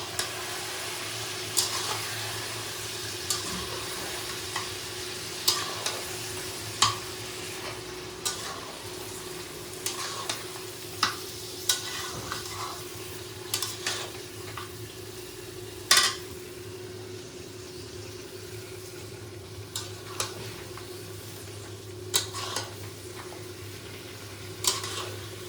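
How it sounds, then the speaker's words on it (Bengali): Ginger, garlic, onion, chili and tomato paste stirred in a sizzling pan, with a steady fry beneath repeated sharp clicks and scrapes of a utensil against the metal. "তো এগুলো দিয়ে এখন ভালো করে নাড়িয়ে চাড়িয়ে নেবো"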